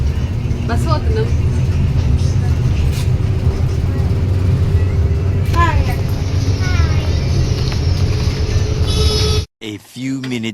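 A bus rides toward the Balaji temple at Dubbaka, with a loud, constant engine drone, several horn toots and voices throughout, before an abrupt break near the end.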